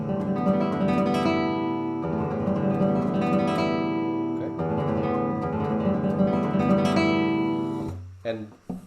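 A guitar passage picked with the right hand only, with no fretting hand, produces a continuous run of fast, even open-string notes that ring loudly and then stop abruptly near the end.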